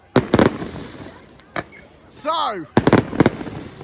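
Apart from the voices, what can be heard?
fireworks display at Swanage Carnival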